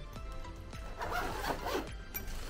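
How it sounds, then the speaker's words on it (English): Zipper being pulled open or shut on a fabric carrying case for a pumpkin carving tool kit: a close, steady rasping run lasting a couple of seconds, preceded by a few soft handling rubs. "It comes and it's like has a zipper on it"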